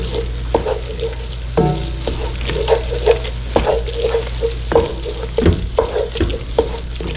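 Vegetables sizzle in a seafood gumbo roux as a spoon stirs and scrapes the pot, with a steady fry and intermittent knocks close by.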